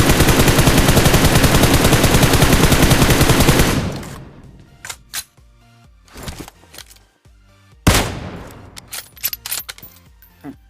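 Rapid automatic gunfire in a shooting video game roars loud and dense for about four seconds, then gives way to scattered single shots and sharp impacts, with another burst of shots near the end.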